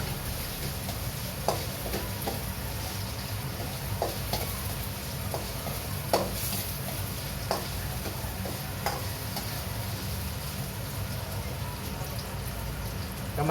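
Ginger frying in a pan: a steady, quiet oil sizzle runs throughout, broken by scattered clicks and scrapes of stirring, with faint talk in the background.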